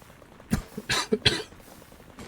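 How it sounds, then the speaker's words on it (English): Three or four short, harsh coughs in a row from one person nearby, spaced unevenly over about a second, with quiet room tone around them. "Sorry, I'm just coughing."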